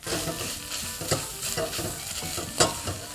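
Sausage frying in a hot pan makes a continuous crackling sizzle, broken by several stirring scrapes and knocks from a utensil. The sound is close and steady, with no voices.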